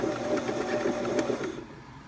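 A sewing machine winding thread onto a bobbin until it is full, giving a steady rhythmic mechanical whir with a faint ticking pulse that fades out near the end.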